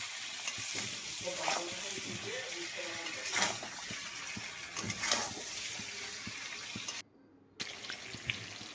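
Spice masala frying and being stirred for a tangra fish curry, a faint, close sizzle with repeated soft scraping strokes of a spatula and a brief silent gap near the end.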